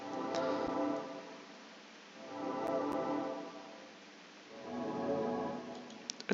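An ambient synth pad from a Silent Hill 3 sample pack swells and fades in three slow, soft waves, quiet and dark with faint clicks, heard alone.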